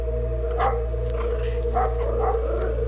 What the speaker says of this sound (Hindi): बाहर कुत्तों की अजीब आवाजें आ रही थी